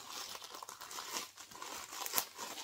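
A parcel of CDs ordered from the United States is opened close by, with continuous crinkling and rustling of packaging and a sharper tearing crackle near the end.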